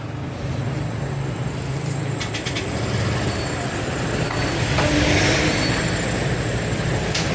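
A remapped Honda Click 125 scooter engine runs loud and close, its drone climbing slightly in a sustained rev toward maximum RPM, with no talk over it.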